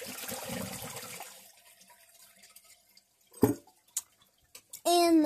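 Project Source Pro toilet flushing in a test, a close rushing gush of water that fades away, followed by quiet, a few knocks and a voice speaking at the end.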